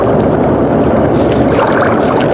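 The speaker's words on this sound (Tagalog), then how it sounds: "Grabe, lumahangin na naman. Sana hindi lumakas." Wind blows steadily across an open boat on the water at night, a dense, continuous broadband rush with buffeting on the microphone and no pauses throughout.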